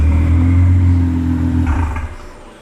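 A turbocharged car's exhaust burbles in a low, rumbling drone close by, then fades gently over a couple of seconds as the engine settles.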